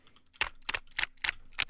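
Keys on a computer keyboard are tapped in a quick, uneven rhythm, six distinct clacky bursts close to the microphone over a quiet low hum.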